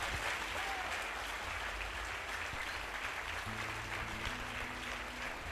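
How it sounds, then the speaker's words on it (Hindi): Congregation clapping steadily throughout a church service, a dense, sustained applause filling the room, with a low hum joining partway through. "आइए यीशु के लिए अच्छी ताली बजाएंगे।"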